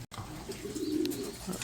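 A pigeon that has just been released gives a soft, low cooing call, close and brief, against a faint outdoor background with no talking.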